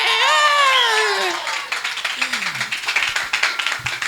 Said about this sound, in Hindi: जरा ताली बजाकर बताओ यार